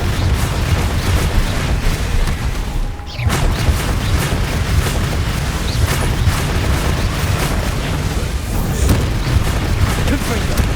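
Explosive Bombarda and Confringo spells in the Hogwarts Legacy video game, heard as dense, continuous booming rumble and blasts with crackling debris throughout, loud and close, with a brief dip partway.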